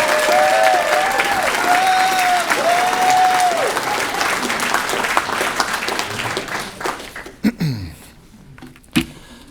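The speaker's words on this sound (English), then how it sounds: "Ladies and gentlemen, please join me in a round of applause for Jeff, 2023 Hall of Fame inductee." An audience applauds a 2023 Hall of Fame inductee at a high school distinguished alumni ceremony, loud sustained clapping over a high tonal whine that tapers off, followed by a few scattered thumps and handling noises.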